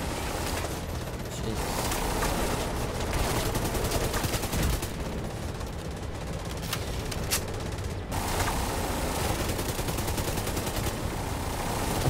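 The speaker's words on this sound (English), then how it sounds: "But I got a minigun!" Sustained minigun fire in The Division 2, a dense rapid rattle of rounds rolling on without pause for the whole stretch, loud and close against a busy combat background.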